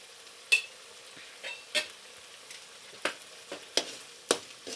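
Masala frying in a pan for gobi manchurian: a low, steady sizzle broken by several sharp spoon scrapes and taps against the pan at irregular intervals, close by and with no talking.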